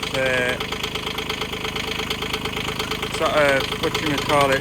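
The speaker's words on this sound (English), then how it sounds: "Engine's running, fired up straight off the key." A freshly serviced machine engine runs at a steady, close idle with a rough knocking rumble throughout, with brief music-like tonal sounds passing over it and no talking.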